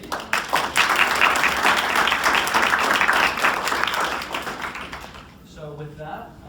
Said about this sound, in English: We get a quick round of applause.